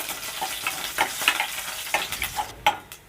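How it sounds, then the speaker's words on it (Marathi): Garlic sautéing in hot oil with cumin and asafoetida for masoor dal, a close, crackling sizzle broken by quick scraping stirs of a spoon at an uneven rhythm. "हा लसूण घालून घेते आणि थोडंसं परतून घेऊ लसूण लाल होऊ दे"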